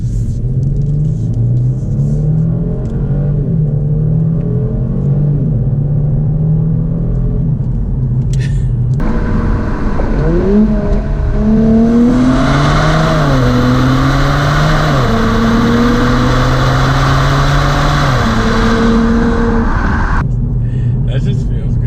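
A Kia Stinger GT engine accelerates in manual mode on open road, loud rising revs climbing through several gear changes in a continuous interior drone, with people talking over it.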